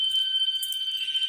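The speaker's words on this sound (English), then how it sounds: "There goes the horn on my UMT." A UMT fire alarm horn blares in a steady, continuous electronic tone, loud and close, alone without talk.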